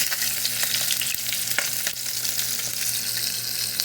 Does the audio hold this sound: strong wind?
no